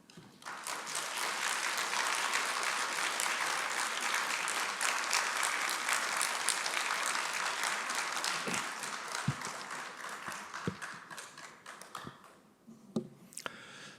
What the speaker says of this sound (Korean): 대기자님 나오실 때 박수로 환영해 주시면 감사하겠습니다